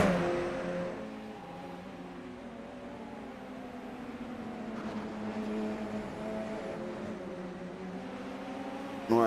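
Radical race cars accelerating up the back straight at Watkins Glen in a sim racing game, several engines whining and climbing in pitch through the gears together, steady and fairly close, no speech.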